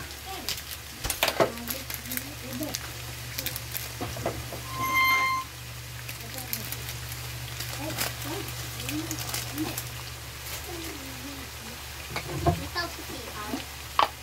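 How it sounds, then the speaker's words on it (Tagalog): Bitter gourd (ampalaya), a full kilo, frying and being stirred in a pan for ginisang ampalaya, with steady sizzling, occasional scrapes and clinks of utensils, and voices talking in the background. "We're cooking 1 kilo of ampalaya."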